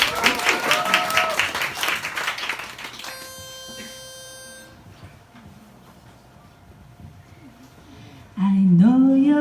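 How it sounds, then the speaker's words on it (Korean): Applause and cheering from a bar audience at a Christmas concert briefly fill the opening seconds, then fade into sustained electronic keyboard tones before a singer's voice begins. "박수 주세요."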